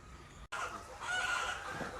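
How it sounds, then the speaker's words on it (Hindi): Layer hens at an egg-producing poultry farm cluck and cackle in a dense flock, with a brief cut of silence early on before the birds return louder and continuous. "देखिए पीछे जो दिख रहा है यही लेयर फार्म है जहाँ पे मुर्गियों से अंडा को उत्पादित किया जाता है।"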